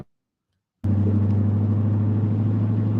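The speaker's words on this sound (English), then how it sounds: "I hear your car engine revving back there." A car engine droning steadily while driving, heard over a call connection: a loud, low, constant hum that bursts in after a moment of total silence and holds without clear revs.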